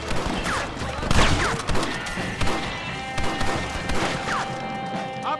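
A Red Dead Redemption shootout, with rapid gunshots cracking and thudding in quick succession over echoing game ambience, loud and close, with rising whistles and impacts between the shots.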